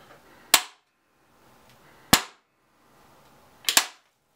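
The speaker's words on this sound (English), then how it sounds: "I'm just going to put one in my bullet puller, and we'll have a quick look at what we get." A kinetic bullet puller strikes a hard surface to pull the bullet from a 1918 .45 ACP cartridge, giving three sharp isolated whacks, the last a quick double hit, with quiet pauses between.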